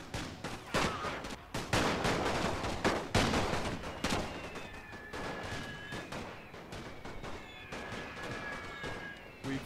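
Gunfire in the World War I strategy game The Great War: distant rifle volleys and scattered shots crackle in irregular bursts, fairly faint, with someone talking between them.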